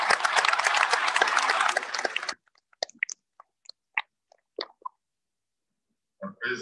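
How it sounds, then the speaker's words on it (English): Loud audience applause at a plenary session of an AIDS conference, a dense burst of many clapping hands that cuts off abruptly, followed by scattered faint clicks and a brief voice near the end. "Je voudrais vous demander de l'applaudir très fort"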